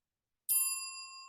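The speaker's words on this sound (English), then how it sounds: "click the notification bell" A single bright notification bell ding rings out of silence, a sharp metallic strike whose tone lingers and slowly fades.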